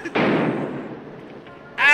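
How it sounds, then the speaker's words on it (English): In a 1954 film, a single sharp gunshot with a rumbling tail that fades, then a second abrupt burst at the end. "Gunfire."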